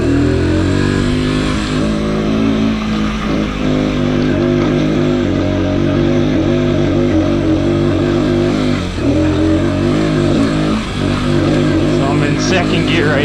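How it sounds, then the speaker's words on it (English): A Sherco TY125 trials motorcycle engine chugs steadily uphill in second gear on a steep climb, a loud, close, continuous low throb with slight swells in revs throughout. "Second gear right now, and it's just chugging."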